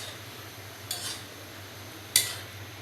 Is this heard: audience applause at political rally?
no